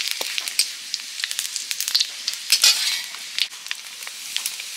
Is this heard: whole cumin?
yes